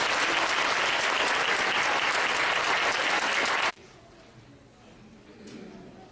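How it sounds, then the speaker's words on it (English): Audience at a school performance event giving loud, full applause for students, a dense continuous clapping that stops abruptly, leaving quiet room murmur. "Can we give them a round of applause for all their fun work?"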